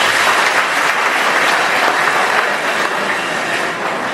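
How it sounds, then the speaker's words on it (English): A large audience applauds at the official closing and awards ceremony of the JETS Fair 2025 in the Lusaka Region. The applause is dense and steady, loud and sustained throughout with no pauses and no voices. "A very big hand of applause to our Tesos."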